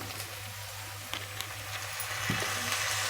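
Two finely chopped tomatoes go into a frying curry of potato, carrot and field beans, giving a steady soft sizzle and a few light stirring clicks, close with no talking.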